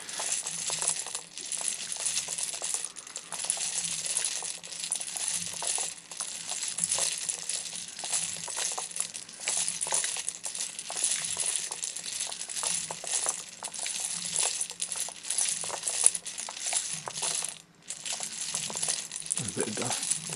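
A spinning machine turned up to higher power gives continuous bright metallic rattling and clattering, like small hard pieces tumbling inside, steady and moderately loud with a brief pause near the end.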